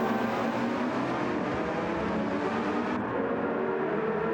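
Race cars in a racing video game lapping the Fuji circuit, a steady dense engine drone with whining revs that holds throughout, mixed loud and continuous with no talk.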